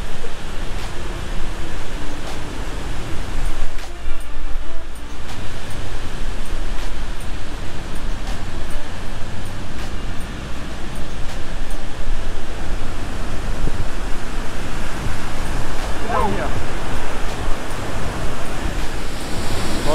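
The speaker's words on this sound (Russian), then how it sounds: "Такой вот у нас отличный водопад." Grand River South East waterfall in Mauritius roars as a steady, broadband rush of falling water, loud and close, continuing unbroken for twenty seconds with no voices.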